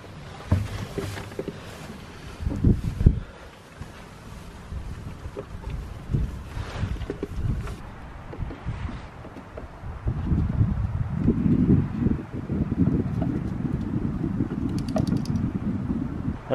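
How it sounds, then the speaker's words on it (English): Strong wind gusts across an open farmyard, buffeting the microphone in uneven surges that swell louder and more sustained in the second half, with occasional rustling and no speech. "It's pretty windy out today"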